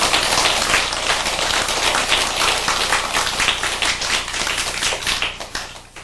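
Dense clapping from a seated audience at a Korean Buddhist sutra lecture, loud and continuous from many hands, then thinning slightly toward the end with no speech over it.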